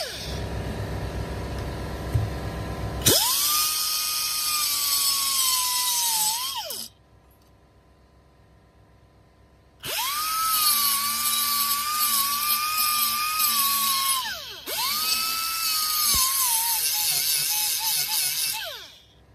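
A disc grinder rounds the corners of a steel clutch pedal being fabricated for a 1968 Mustang three-pedal conversion, whining loudly in two long bursts with a pause between and a brief dip near the end.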